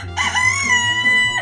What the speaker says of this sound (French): Coq,